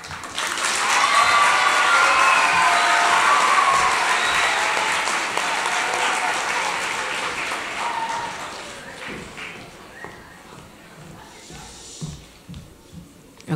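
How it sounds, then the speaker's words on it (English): Applause and cheering from an audience for teen readers at a press conference event, loud and dense for several seconds, tapering into scattered claps with voices and murmuring talk as it dies away. "Can we give another round of applause for our readers?"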